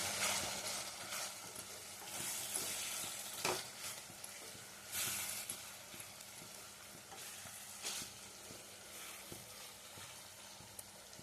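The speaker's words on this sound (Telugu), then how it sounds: "చికెన్ కాస్త బాగా వేగించుకోవాలండి" Chicken sizzling and frying in a pan for a brinjal curry, with a steady crackling hiss and occasional stirring scrapes, fairly quiet and without talk.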